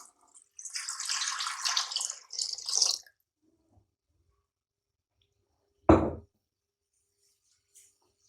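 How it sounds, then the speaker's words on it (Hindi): A jug of water is poured into a cooking pot to make semolina halwa: a close, steady splashing pour of about two and a half seconds with a brief break, then silence and a single dull knock. "1 जग पानी डालेंगे"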